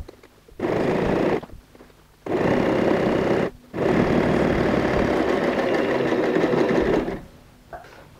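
A sewing machine runs an edge stitch on a fabric bag in three loud, steady bursts, the first short and the last longest, separated by brief pauses, with no talking.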